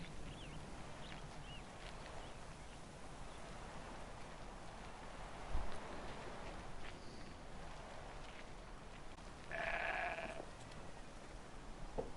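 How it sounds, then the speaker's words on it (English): A single goat bleats briefly in the open world of the video game Horizon Zero Dawn, a short tonal call rising above a steady bed of rain-like ambient noise. "I heard a goat. Did you hear the goat?"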